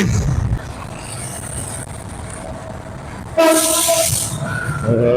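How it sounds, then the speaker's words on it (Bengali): A train leaves Kamalapur station in light rain. A low rumble runs under steady road noise, then a loud horn blast cuts in and holds for over a second near the end. "খুব সম্ভবত ট্রেন আসতেছে মানে কমলাপুর থেকে ছেড়ে আসতেছে সেরকমই একটা আওয়াজ পাচ্ছি"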